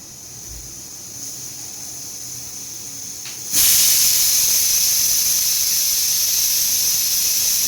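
A pressure cooker cooking masoor khichdi suddenly releases its whistle, a loud continuous hissing steam jet that bursts in midway and holds steady to the end after a quieter stretch of low kitchen hum.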